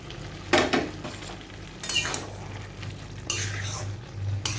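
Bottle gourd being stirred with sugar and beaten egg in a pan, a spoon scraping and clinking against the metal in several distinct bursts over a low steady sizzle.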